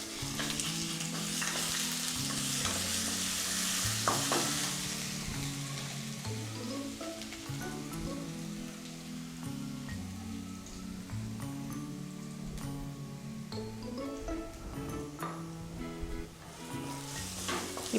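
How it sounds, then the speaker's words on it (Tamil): Ginger garlic paste frying in a pan for an aloo samosa filling, a steady close sizzle with occasional stirring scrapes running throughout, with no talking. "அடுத்து இஞ்சி பூண்டு பேஸ்ட் போடுறோம்."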